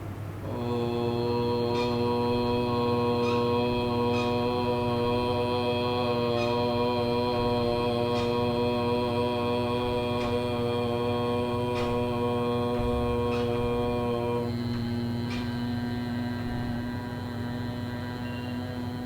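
A single voice sustains a long, steady Om chant during yoga breathing practice, the tone held evenly for about fifteen seconds before easing off, with a faint background hum throughout.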